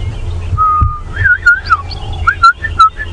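A person whistles an imitation of the African green pigeon's call during a sunrise safari drive: a short run of clear, warbling, rising and falling notes, close and fairly loud, with no talk over it.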